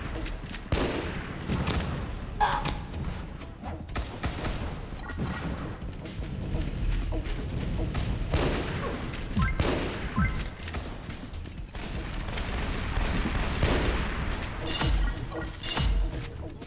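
Constant gunfire in a Hindi-commentated shooter game, with rapid overlapping shots, bursts and impacts going on throughout at steady moderate loudness, with hardly any talk over it.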